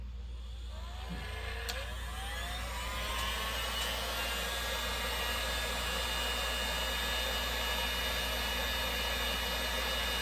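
A heat gun set to maximum heat blows a loud, steady roaring hiss of hot air, continuous and close for the whole stretch, with a faint whine riding on top.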